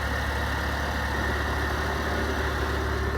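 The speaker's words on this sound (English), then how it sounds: "Little exhaust leak. I smell some exhaust" A Jeep engine with an exhaust leak idles steadily nearby with a low, rough rumble and a constant hissing drone, no voices.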